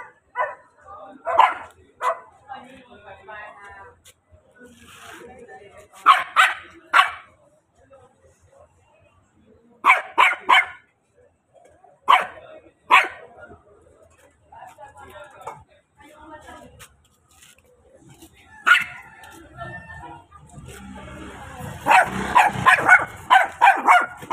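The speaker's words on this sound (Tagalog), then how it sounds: "Sumunod kay Julie, yung aso nila." A dog barks in short bursts and clusters with pauses between, fairly close, along with some yips and whimpers; voices can be heard in the background.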